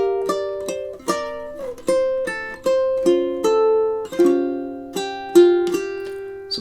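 Plucked ukulele notes with clear harmonics play the melody of a song, measures 15 to 17, in a steady rhythm of about nine ringing notes, close and alone.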